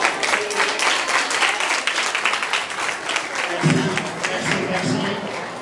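A school audience at a star-night talk gives sustained, dense applause that stays loud throughout, with a few voices mixed into the clapping.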